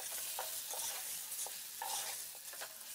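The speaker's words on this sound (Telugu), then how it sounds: "మనం ముందుగా మ్యారినేషన్ చేసుకున్న చికెన్ని అందులో వేసుకొని ఒకసారి బాగా కలుపుకోండి" Marinated chicken is stirred into a sizzling curry mixture in a pan for Andhra chicken curry, with a run of repeated scraping stir strokes over a constant close frying hiss.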